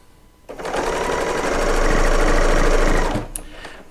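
A serger sewing machine piecing a quilt runs in one steady, loud, continuous burst lasting about two and a half seconds, then stops, leaving a few faint clicks.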